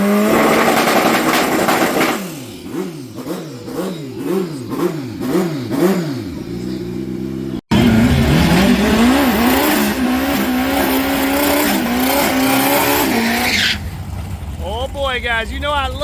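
Small island cars rev their engines nearby, a rising and falling motor drone with repeated throttle blips, loud and steady, broken by a brief cut, with voices talking over it.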